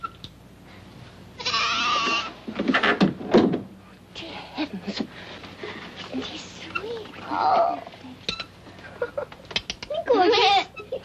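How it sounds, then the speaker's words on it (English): Baby goat bleating in short wavering calls, several bursts spread across the scene, close by and interleaved with people talking softly. "Come on now, little baby goat."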